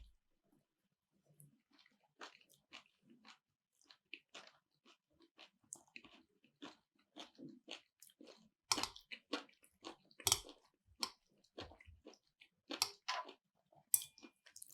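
Close, crunchy chewing of chuka seaweed salad with nut sauce: steady wet bites and mastication that grow louder and denser partway through, in a quiet setting with no talking.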